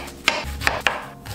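Knife chopping onions on a board in a home kitchen, three sharp separate cuts with a faint rub between them, close and clear with no talking.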